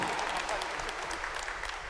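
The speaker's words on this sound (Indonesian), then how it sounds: "kita aplaus dengan tepuk tangan yang meriah" A church wedding congregation claps warmly, a dense, continuous burst of applause heard close and fairly loud throughout.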